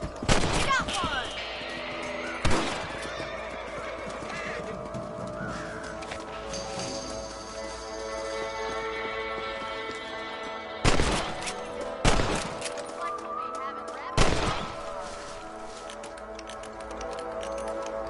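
Rifle gunfire in the game Red Dead Redemption: a handful of sharp, loud shots spaced several seconds apart over a busy game soundscape.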